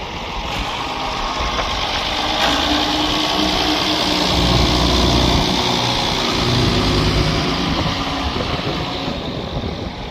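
A steady engine rumbles close by, idling continuously at an even loudness throughout with no voices.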